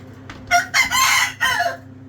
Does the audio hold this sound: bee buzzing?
no